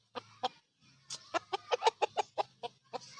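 A rooster clucks in a burst of short, sharp calls, a few spaced at first and then a quicker run, fairly close against a quiet background.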